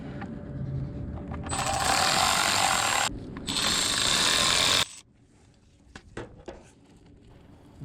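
A power driver spins screws into a Volkswagen oil pan during a repair, two loud buzzing bursts close by, followed by quieter clicks and taps of handling parts.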